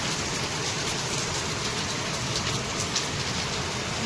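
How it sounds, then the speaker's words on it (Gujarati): A steady, dense roar of heavy monsoon rain in Surat pours down without pause, loud and close, with no voices. "એટલો જોરદાર સ્વરૂપમાં વરસાદ ચાલુ થઈ ગયો છે"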